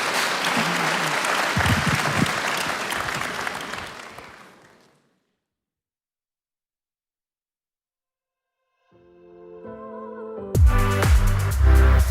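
Audience applause at a church forum event, a dense wash of clapping that fades out to silence, then music swells in near the end.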